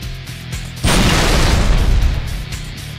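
A Type 1 anti-personnel plasma grenade from Halo Reach detonates with a single loud, close boom. The blast is preceded by a low hum and a brief hissing fuse, then trails off into a lingering rumble with no talking.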